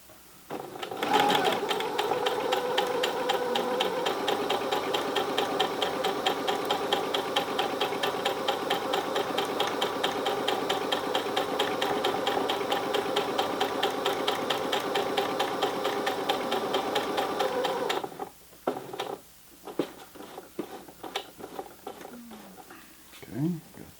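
Sewing machine stitching a fabric hot pad, a close, fast, steady mechanical whir for about seventeen seconds, then stopping, followed by quieter handling clicks and talking.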